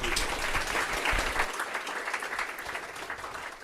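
A conference audience applauds after a talk on white labeling with CI/CD, a full burst of clapping that is heaviest at first and then thins slightly while staying steady to the end.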